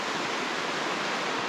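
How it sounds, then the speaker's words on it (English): Basin Creek in North Carolina rushes along in a steady, unbroken wash of flowing water, close and fairly even, with no voices present. "We're down here on the Basin Creek."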